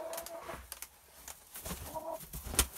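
Sick hen being handled for treatment gives short clucks and squawks, close by and fairly quiet, in brief bursts with pauses between.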